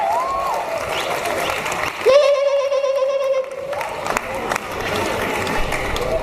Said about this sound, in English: Hype battle, make some noise.